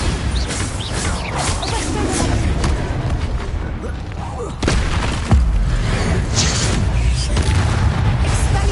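Bombarda explosion spell cast in Hogwarts Legacy, loud booming blasts and crashing debris over continuous rumbling game noise, with sharp impacts midway through.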